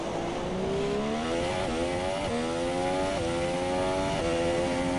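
Formula 1 race car engine at full revs in the F1 2017 video game, a loud continuous high-pitched whine that climbs through repeated gear changes, each shift dropping the pitch briefly before it rises again.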